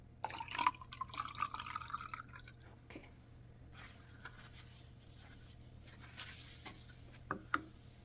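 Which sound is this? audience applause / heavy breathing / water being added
water being added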